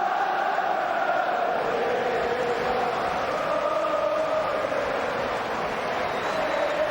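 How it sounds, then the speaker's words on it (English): Football crowd at a Liverpool versus Reading Premier League match, a broad steady roar of many voices with sustained chant-like tones running under it, loud and continuous throughout. "that's cheered the crowd up"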